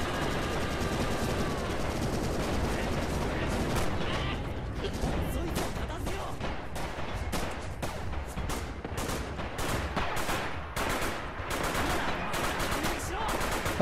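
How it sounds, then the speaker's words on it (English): In the World War II shooter Red Orchestra 2, artillery and machine gun fire form a dense barrage: rapid, cracking bursts and repeated distant shots continuing throughout, with a steady rumble beneath, and no voices over it. "the commander has just called in some artillery"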